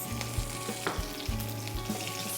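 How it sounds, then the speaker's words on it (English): Green chilli and curry leaves hit hot oil with browned fenugreek seeds for a Gujarati dish. They give a close, continuous crackling sizzle with light stirring taps. "After my fenugreek seeds are nice and brown, I'm going to add in my green chilli and curry leaves"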